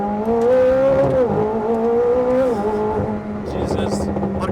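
A McLaren 765LT Spyder accelerates hard at full throttle, its engine note loud and close as it climbs through the gears, then eases off near the end while a voice speaks over it.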